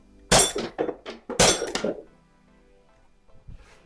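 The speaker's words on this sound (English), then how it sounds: "Ricochet" Bullets striking and ricocheting off shooting targets: two sharp, loud impacts about a second apart, each trailing off in a rattling, ringing decay, followed by a faint distant knock.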